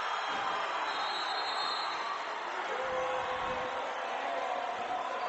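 A crowd in a high school gym reacting after a buzzer-time three-pointer at a boys basketball game, a steady, dense roar of many voices sustained at moderate distance without a break.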